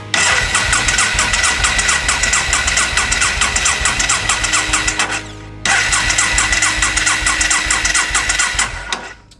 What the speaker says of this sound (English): So I'm gonna start it up, give it a couple little cranks